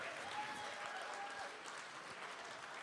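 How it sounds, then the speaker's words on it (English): At the Shine Celebration 2021 fundraiser, a crowd gives a steady, moderately distant round of applause for twelve donors, even and unbroken throughout. "Let's give all 12 people a huge round of applause"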